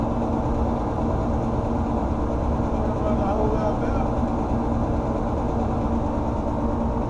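Gas furnace during maintenance, running smoothly with its blower fan producing a steady, even whoosh and low hum that stays constant throughout, close by and uninterrupted.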